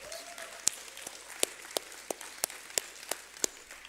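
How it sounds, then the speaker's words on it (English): Sparse, scattered handclaps from a small audience at a women-in-research award ceremony honoring a bioscience professor; about a dozen sharp individual claps spread unevenly, faint and thin against a quiet room. "Please give her a big applause."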